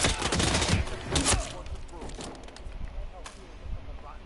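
Rapid bursts of video game gunfire crackle and rattle loudly over the first second and a half, then thin into scattered shots and clatter, with a voice briefly heard.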